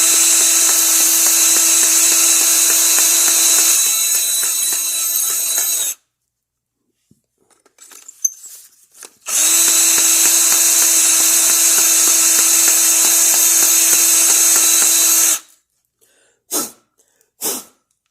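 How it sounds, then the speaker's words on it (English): A power drill whines steadily as its bit grinds rust out of a hole in the rear brake hardware of a 2006 Suburban, in two long bursts separated by a pause with faint scraping, followed by a couple of short trigger blips. "I'm just using the drill bit to kind of just grind out the rust inside."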